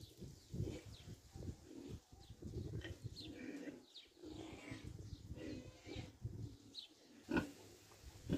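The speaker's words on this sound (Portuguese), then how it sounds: "Lindo, lindo, lindos porcos." Pigs grunt and oink in a pen on a pig farm in Pernambuco, Brazil, with a busy, continuous stream of close snorts and squeals mixed with bird chirps.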